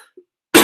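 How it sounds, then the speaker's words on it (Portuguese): A single loud, sharp cough bursts out close to the microphone near the end, after a brief moment of quiet. "eu peço imensa desculpa esta tosse"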